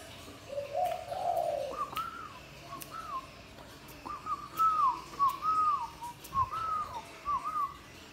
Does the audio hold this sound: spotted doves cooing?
yes